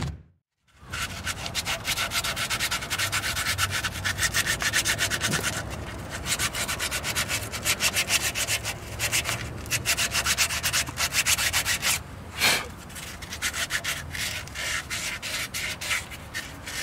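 Sandpaper rubs steadily against a ball joint fitting in a continuous rasping scrape, with quick repeated back-and-forth strokes that carry on throughout at close range.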